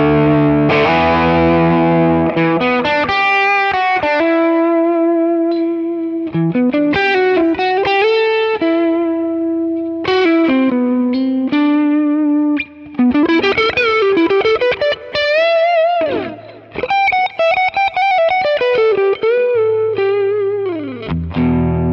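Electric guitar played through an Amalgam capture of a Bluesbreaker overdrive pedal, a loud, mildly distorted lead line with bends, sustained notes and quick phrases running continuously for over twenty seconds, with no talking.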